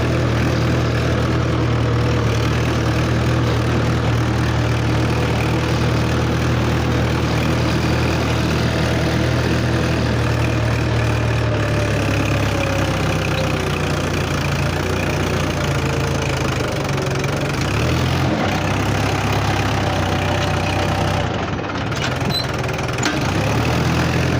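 Fully loaded Mahindra 475 DI tractor engine, a loud steady diesel idle with a low rhythmic knocking throb that continues without a break, sitting close and alone.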